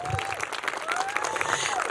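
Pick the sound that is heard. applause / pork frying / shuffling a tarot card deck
applause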